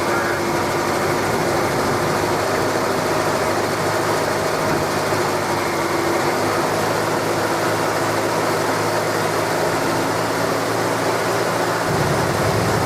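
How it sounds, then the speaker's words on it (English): The six-cylinder engine of a 1978 Ford F-100 runs steadily and loudly up close, a continuous low rumble that holds level for about thirteen seconds with no clear rise in revs. "I'm going to rev her up here a little bit, gurgle some of that air out of this thing"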